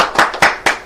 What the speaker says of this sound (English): Let's give a clap to...